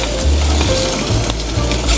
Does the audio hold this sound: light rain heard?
no